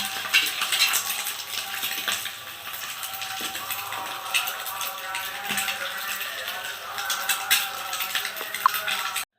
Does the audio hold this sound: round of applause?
no